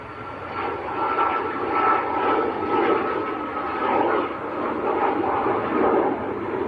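A fixed-wing airliner taking off at Manchester Airport roars steadily and loudly throughout, a broad continuous engine rumble with gentle swells in strength and no voices.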